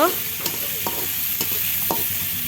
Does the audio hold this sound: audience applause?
no